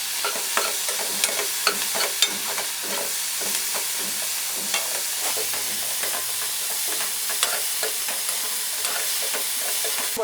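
Chopped onions and three medium tomatoes with garlic paste sautéing in a pan for butter chicken, a soft steady sizzle with scattered ticks and scrapes of stirring, no voices.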